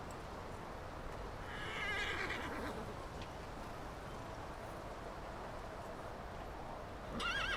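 A horse whinnies around two seconds in, with another brief rising call near the end, both over a steady outdoor background with no talking.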